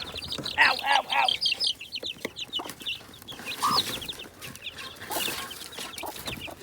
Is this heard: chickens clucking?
yes